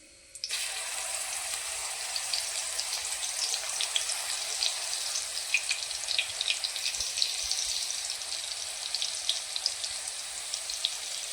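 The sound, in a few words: chopped green chillies frying in hot oil with cumin and mustard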